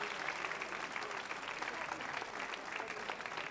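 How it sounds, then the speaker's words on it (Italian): Steady audience applause fills the room, a dense continuous patter of many hands clapping at moderate loudness with no gaps, lasting the whole stretch without voices on top. "facciamo un grande applauso"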